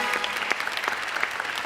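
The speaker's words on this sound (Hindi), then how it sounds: "आयशा उमर स्टाइल स्टूडियो के लिए तालियां" Applause from a studio audience on a talk show, a full, steady round of clapping from many people, close and continuous, with no voices over it.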